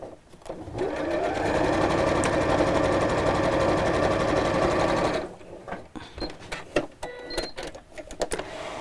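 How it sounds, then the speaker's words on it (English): A sewing machine stitches close to the edge of a messenger bag flap in one loud continuous run of about four seconds, then stops, leaving clicks and handling noises. "I'm just going to sew again close to the edge."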